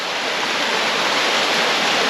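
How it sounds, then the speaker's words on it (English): A small woodland waterfall in Hamsterley Forest pours steadily, filling the air with a loud, close, broadband rush of falling water that stays constant and unbroken throughout, with no voices over it. "it took a while to find it, but I did promise you a waterfall"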